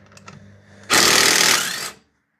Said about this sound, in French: Moi, je vais prendre la clé à choc, hein, ça va peut-être faire du bruit.